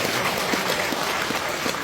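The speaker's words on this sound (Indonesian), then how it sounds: "tepuk tangan untuk mereka" Steady clapping from a sizable seminar audience, a dense continuous patter with no voices standing out, sustained evenly for a couple of seconds.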